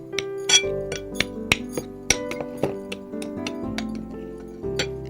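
Fish marinade ingredients are stirred together in a bowl, with a spoon clinking and tapping against the sides in irregular, close, sharp knocks and scrapes.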